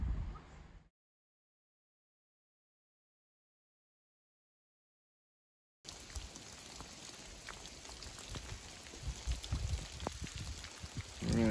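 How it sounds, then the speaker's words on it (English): Steady rain falls on a mountain trail near Newfound Gap in the Great Smoky Mountains, beginning after a few seconds of silence and continuing as a dense, close patter with scattered louder drops. "It's just a nice rain."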